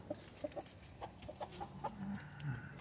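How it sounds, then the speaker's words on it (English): A broody hen sits in a rabbit hutch inside a chicken run with her hatched chicks and gives soft, close clucks in an irregular run, mixed with faint higher chirps, quiet and without speech. "There's our broody hen."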